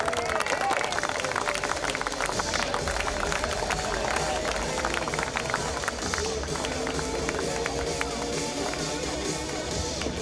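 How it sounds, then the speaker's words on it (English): A crowd at a squash tournament applauds the referees as they walk onto the court, steady clapping mixed with crowd murmur and background speech. "Can we please applaud them as they head onto the court?"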